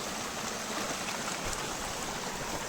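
Water from the Khandi Point waterfall rushes in a steady, dense hiss that runs unbroken from start to finish, with no voices.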